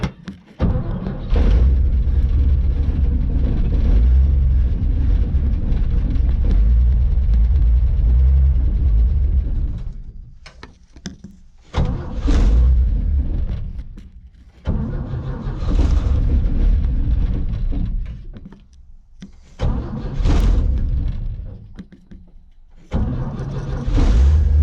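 An abandoned 1957 Chevy, neglected for five decades, cranks over and starts, its engine running loud and rough with a deep rumble, surging and cutting out in several bursts before catching again.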